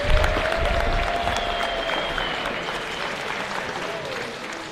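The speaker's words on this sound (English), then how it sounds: "Give another round of applause for all of our seniors." A crowd in a school gym at a high school basketball game applauds the seniors, steady dense clapping throughout with a faint announcer's voice and a whistle-like tone drifting over it.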